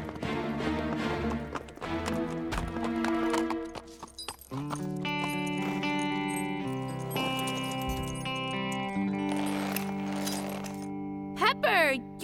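A cartoon horse gallops around a pasture, with rapid hoofbeats heard alongside a whinny, sound effects and background music, and voices talking over the scene.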